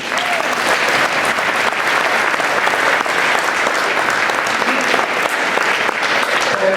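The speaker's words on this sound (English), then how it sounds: "One more round of applause, please." Sustained, loud audience applause fills a school concert hall after a junior high and high school choir performance at a winter Christmas concert, dense and steady throughout with no talk over it.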